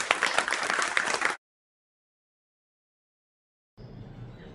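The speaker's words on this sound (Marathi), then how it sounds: "त्यांच्यासाठी स्पेशली आपण अशा टाळ्या वाजवू" Applause and hand clapping from an audience, dense and fairly loud for over a second, then a silent gap before quieter clapping resumes near the end.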